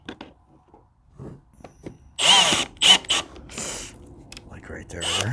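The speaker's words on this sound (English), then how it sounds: "It started to pull itself and drill its way through" Power drill biting through material in a basement workshop, with a few short loud bursts of whirring and grabbing between quieter pauses, close by, and faint voice and handling sounds in the gaps.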